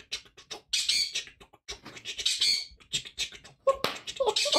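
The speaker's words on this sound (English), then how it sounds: "your bird Jazz rules" A pet bird squawks and chatters in a rapid, irregular string of harsh, loud, close calls, with scratchy bursts between them and no talk.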